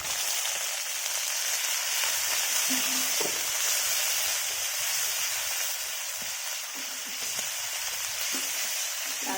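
Onion paste frying in oil for a spicy egg curry, a steady close sizzle and crackle that runs evenly throughout with a few faint clinks, no voices.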